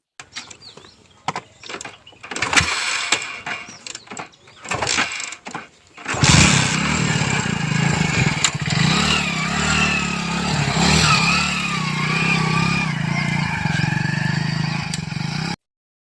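A motorcycle engine clatters through a few uneven bursts, then catches and runs steadily close by, loud and unbroken until the end, with no talk.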